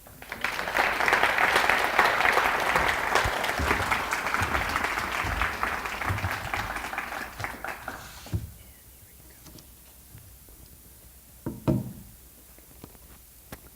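Applause from an audience welcoming a reverend at a 2018 MLK event: loud, dense clapping that fades out, then a few isolated knocks and handling sounds in a quieter room.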